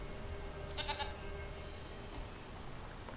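A goat in The Witcher 3 lets out a short bleat around the one-second mark, heard over a steady layer of game ambience with no talk.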